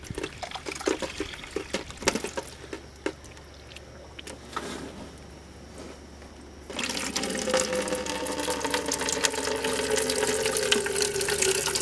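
Water gurgles and splashes during a heater core flush on a 1994 Chevy Caprice wagon with an LT1 350 V8, starting as intermittent spatters and turning into a steady, louder rushing flow partway through.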